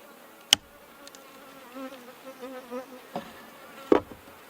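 Honey bees hum softly around a hive during a hive inspection, a low steady drone broken by a few sharp knocks and clicks nearby.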